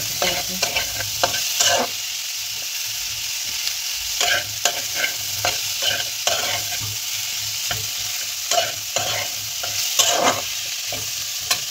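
Chopped tomatoes frying with spices in a pan for a vegetarian kohlrabi curry: a continuous loud sizzle broken by repeated scraping and stirring knocks.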